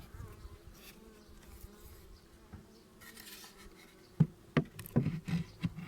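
Honeybees from a hive opened for the first time after winter make a low, steady hum, joined in the second half by several close knocks and clatters of hive parts being handled.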